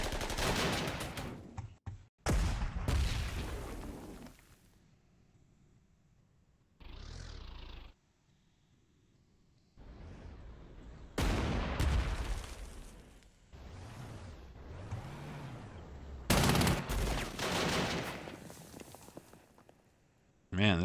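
Artillery barrage in the World War II strategy game Panzer Corps 2 on the Operation Barbarossa front, bursts of booming gunfire and explosions in separate salvos with gaps of quiet between them.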